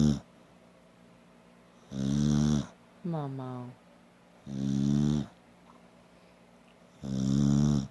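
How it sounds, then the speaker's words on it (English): A girl snores with her eyes open while lying on her grandmother: loud, slow, regular snores roughly every two and a half seconds, close up, with someone speaking softly between them. "How are you snoring? Your eyes are open."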